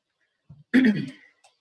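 A single throaty cough, near and fairly soft, with a faint breath or vocal sound just before it and quiet afterward.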